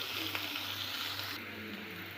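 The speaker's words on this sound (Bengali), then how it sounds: "এটা আগে ভেজে নিই" Chopped onions frying in a pan, a steady close sizzle with a brief stir partway through and no voices.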